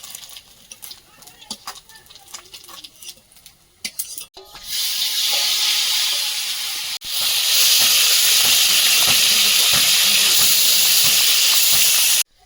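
Pieces of pencil bogo fish dropped into hot oil burst into a loud, steady hissing sizzle that runs unbroken for several seconds, preceded by clattering kitchen sounds and some talking.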